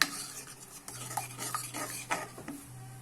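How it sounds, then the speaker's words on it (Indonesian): Tahu petis sauce is stirred in a pan as it thickens, with a spoon scraping and clinking against the metal in repeated strokes close by, alongside a faint sizzle and a low steady hum. "Kita aduk sampai rata, sampai mengental dan mendidih kembali ya."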